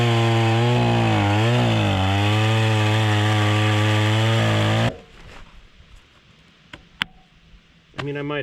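A chainsaw cuts loudly and steadily through a log for about five seconds, its engine pitch dipping under load, then cuts out, leaving quiet handling sounds and a few sharp knocks.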